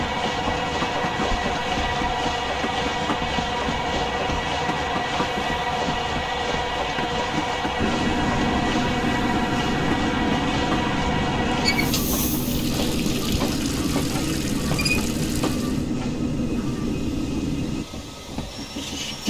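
LNER K1 2-6-0 steam locomotive rolling along in a Train Simulator game, giving a steady continuous rumble of wheels and rail noise with faint clicking and brief squealing, sustained throughout, no speech.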